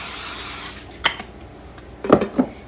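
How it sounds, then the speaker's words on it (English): Canola oil cooking spray hisses steadily onto a cookie sheet for under a second, loud and close, followed by a few light clinks and taps from handling the pan. "we're gonna go ahead and spray our cookie sheet with just some cooking spray"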